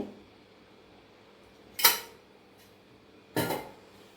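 Cooked rice being stirred with oil for lemon rice, two sharp clinks of a utensil against a pot or plate a couple of seconds apart over quiet kitchen background.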